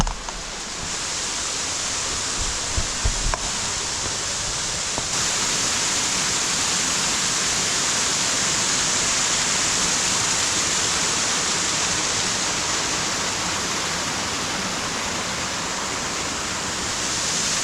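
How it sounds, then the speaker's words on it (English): A large waterfall with a heavy volume of water pouring down in a remote wilderness, giving a loud, constant broadband roar that stays steady throughout with no voices. "This is the coolest waterfall yet. And there's a lot of water coming off here."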